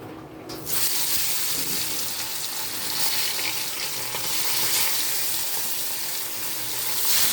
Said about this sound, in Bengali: মাছগুলো সব ভেজে নিলাম।